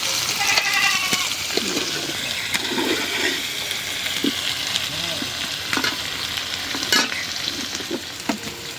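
Small potatoes with a pinch of salt frying in a pan, giving a continuous, fairly loud sizzle with intermittent stirring scrapes and clatter. No talk is heard.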